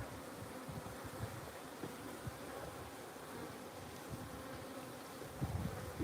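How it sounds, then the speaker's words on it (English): Honeybees hum steadily around a beehive feeder outdoors near a greenhouse and garden, a soft continuous buzz with a louder pass of wings near the end. "We're gonna feed the bees, we're gonna feed the bees."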